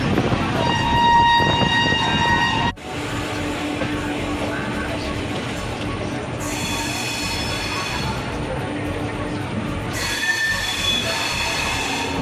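Cholan Express passenger train running on rails, a loud continuous rumble of wheels with squealing tones and a brief drop partway through, with faint voices in the background.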